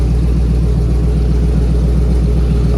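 A 2013 Chevy Equinox with a blown transmission line idles steadily with the wheels chocked, a loud, even low engine drone with a slight pulsing rhythm throughout.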